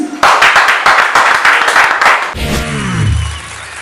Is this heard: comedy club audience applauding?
yes